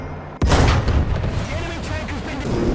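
A tank cannon fires in War Thunder, one sudden loud boom followed by a long rumbling roar that carries through the rest of the moment, with a voice talking over it.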